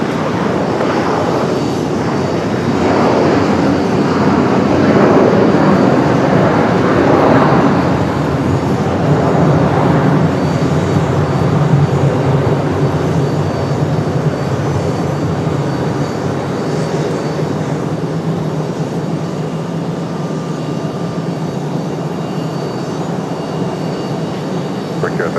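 A Southwest airliner takes off from runway 5 right at Raleigh-Durham, its engines giving a steady, loud, broad roar that swells early and holds for the whole stretch with no talk over it.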